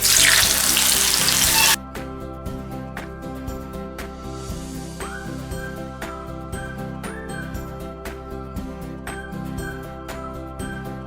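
Hot oil sizzles and crackles steadily as cassava (maravalli kizhangu) chips fry, starting with a loud burst of hissing, with occasional metallic clinks of a utensil.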